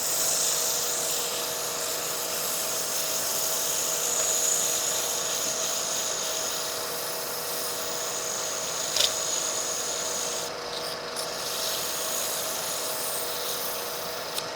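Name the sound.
sanding wood on a lathe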